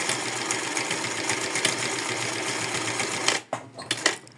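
A sewing machine runs fast and steady, stitching elastic onto a bra top with a dense, continuous mechanical whir, then stops abruptly into a few small clicks and handling sounds.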